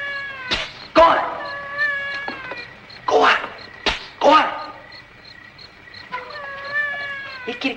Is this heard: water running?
no